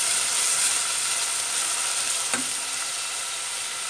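Vegetables for soup fry and brown in a pot, a dense continuous sizzle close by with one brief stirring clatter partway through, no talk.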